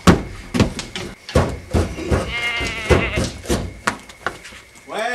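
Sheep bleat repeatedly at close range, several wavering cries mixed with bumps and knocks, while people talk in French between and over the calls.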